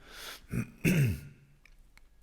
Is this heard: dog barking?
no